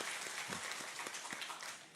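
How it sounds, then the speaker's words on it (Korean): A church congregation applauding to welcome a newcomer during a worship service: a short burst of dense, even clapping from many people in a hall, fairly soft and alone without talk. "함께 박수로 환영해 주시겠습니다"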